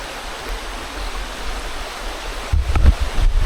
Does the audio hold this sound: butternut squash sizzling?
no